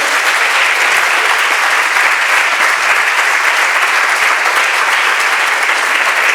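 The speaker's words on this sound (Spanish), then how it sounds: "creo que deberíamos darle un aplauso" Conference audience applauding continuously, a dense, loud and even roar of many hands clapping at once that holds steady throughout.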